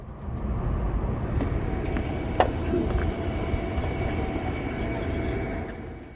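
A KTX train halted at Jeongdongjin station beside the East Sea, a steady low rumble of idling rail equipment filling the air, with one brief sharp knock partway through.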